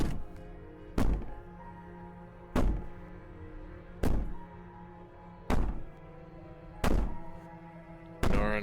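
Heavy, evenly spaced thuds pound on a wall or door, six blows at roughly one-and-a-half-second intervals, loud and booming with a low resonant hum between them in a quiet night-time room.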